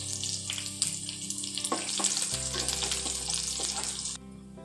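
Onion and curry leaves fry in a pan, a steady close sizzle with faint crackles and a low hum beneath that cuts out near the end.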